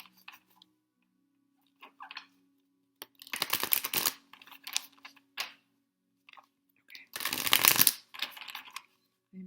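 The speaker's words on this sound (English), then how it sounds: "I'm shuffling this really, really well." Cards are shuffled in two loud, close bursts of rapid riffling against a quiet room, with a faint steady hum and scattered small taps and clicks in between.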